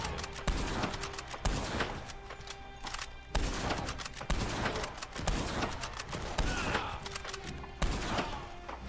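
Rapid gunfire bursts from a machine gun wagon in the Red Dead Online game, with repeated clusters of loud shots separated by brief pauses and a few heavy thuds.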